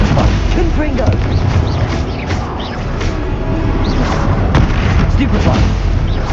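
Confringo fire spell blasts in Hogwarts Legacy, loud booming explosions layered in dense, continuous combat noise with a player's voice shouting over them.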